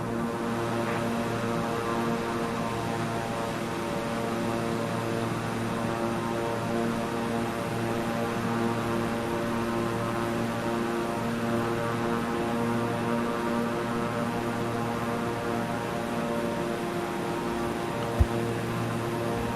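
Steady, loud drone of a Beechcraft propeller airplane climbing through cloud, heard from inside the cabin, with strong even harmonic hum and no pauses throughout.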